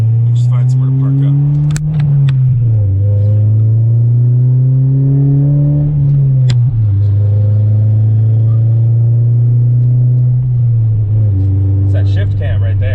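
Honda Integra engine revving through the gears from the cabin, a loud rising drone that swells in pitch and steps up sharply as the cam switches over. Each gear change drops it back down, under occasional talk.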